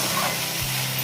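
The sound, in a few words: fiddlehead fern (dhekia) being stir-fried in a pan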